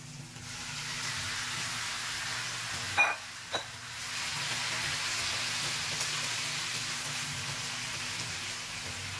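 Sliced beef marinated in calamansi hitting a pan of sautéed onion and garlic, giving a steady soft sizzle throughout with a couple of brief clatters near the start.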